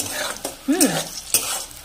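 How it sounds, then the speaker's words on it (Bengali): Brinjal pieces fry in oil in a pan without salt yet. A close, crackling sizzle is broken by stirring strokes and light utensil clinks. "আরও ভাজা হবে বেগুনগুলো লাল লাল করে"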